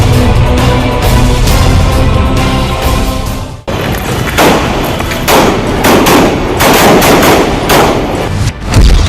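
Dense, loud bursts of rapid gunfire crack continuously, briefly cutting out before resuming in heavy volleys with crashing impacts.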